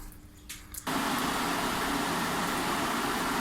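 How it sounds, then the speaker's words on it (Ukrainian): An electric fan on a Burzhuy KP10 heating boiler switches on abruptly after quiet clicks, then runs as a loud, steady broadband whoosh close by. "Ну, зараз запустимо вентилятор."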